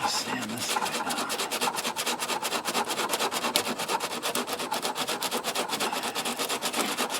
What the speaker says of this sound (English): I'm gonna have to sand this guy down.